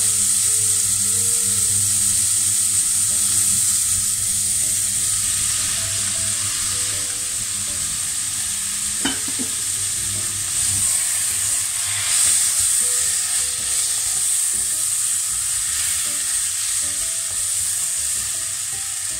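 Carrots frying in a pan with pierrade leftovers, a loud, continuous close sizzle with stirring scrapes and a single sharp clack partway through.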